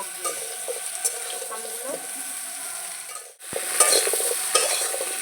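Raw mango pieces sizzle in hot oil over low-medium heat while a spoon stirs and scrapes the pan, a steady hiss with scattered scraping knocks and a brief drop in sound partway through, close and with no talking.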